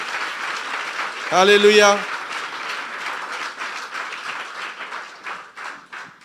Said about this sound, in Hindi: जोरदार तालियां यीशु के जलाल के लिए।